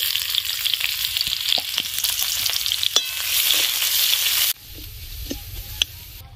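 Cumin, green chillies, onion and ginger frying in oil left from frying pointed gourd, with a loud dense sizzle and a few utensil taps before the sizzle drops sharply quieter, close up with no speech.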